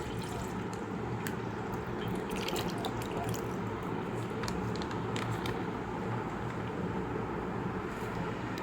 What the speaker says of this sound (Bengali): এখন আমরা 1 লিটার লিকুইড দুধ দিয়ে দিব।